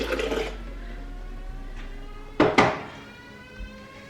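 Water pouring into a smoothie blender on top of oat milk for a green smoothie: a brief loud splash early on, then two sharp close bursts midway, with quieter trickling between.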